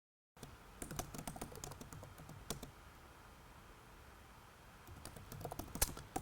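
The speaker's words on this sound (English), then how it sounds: "I'm over here typing." Typing on a computer keyboard in a morning newsroom studio, a quick uneven run of soft clicky keystrokes close by, with a pause mid-way before tapping resumes and a sharper click near the end.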